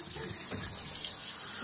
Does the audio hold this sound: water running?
yes